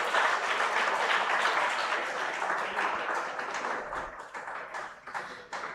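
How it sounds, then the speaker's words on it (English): Applause at a defence technology conclave honouring a guest, a full round of clapping that starts strong and gradually thins into scattered individual claps. "A big round of applause for sir."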